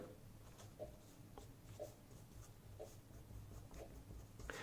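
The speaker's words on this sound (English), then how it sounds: "let's write this out" Pen writing out a chemical equation: soft, regular scratching strokes on a writing surface, about one per second, close and quiet with no talking.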